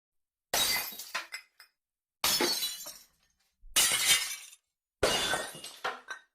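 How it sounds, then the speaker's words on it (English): Four separate crashes of breaking dishes, like plates, glasses, cups, saucers and cereal bowls from a thrown dish rack smashing into a kitchen sink basin, each a sharp loud shatter trailing into clinking fragments, with short silences between. "Everything breakable broke and smashed in the basin. Plates, glasses, cups, and saucers, cereal bowls."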